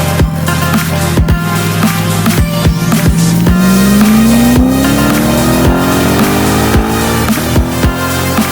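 Lexus RC-F driven hard along back roads, engine loud and close as it pulls up through the revs, with gear changes and repeated sharp clunks from the car.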